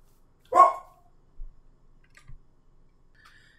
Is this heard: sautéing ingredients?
no